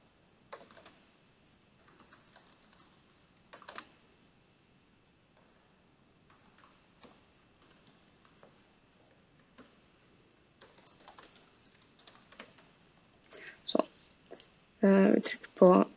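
Typing on a computer keyboard in short, quiet bursts of key clicks. A voice speaks Norwegian throughout, and the keystrokes grow louder and denser toward the end.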